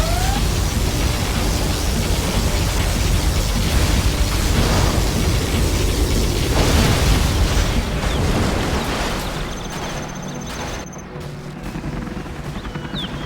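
Particle cannon blasts from the strategy game C&C Generals Zero Hour roar as a loud, sustained explosive rumble that fades into quieter crackling and a thin beam tone near the end.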